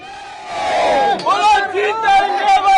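A village crowd celebrates after finishing digging 1,229 pits, raising loud, close cheers and a collective shout with overlapping voices for nearly three seconds.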